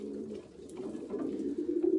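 Pigeons cooing close by, with low throaty repeated coos that swell and pulse through the clip, heard on their own with no talking.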